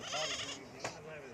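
A goat bleats among livestock, a faint wavering cry partly covered by nearby talking and background noise.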